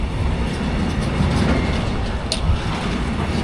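A train rolls along the rails with a continuous loud rumble and faint rhythmic clatter, steady throughout.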